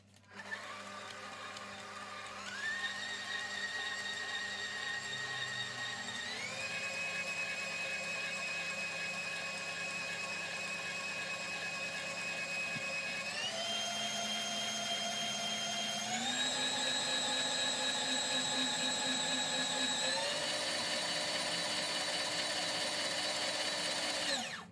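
Electric mixer whirring steadily through cheesecake cream with gelatin, its motor pitch stepping up several times as the speed is raised over about 25 seconds, alone and fairly quiet.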